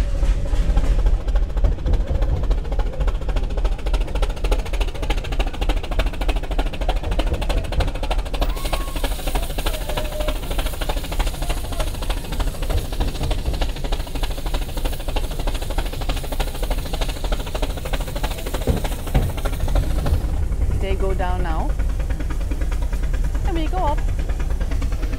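The Brienz Rothorn mountain rack railway train in Switzerland rumbles along steadily with a low engine drone and rhythmic clatter, while a person talks over it for most of the time.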